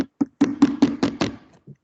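Knuckles rap on a plastic object in a steady series of seven sharp, close knocks with short, hollow-sounding bodies, then a softer final tap after a short pause.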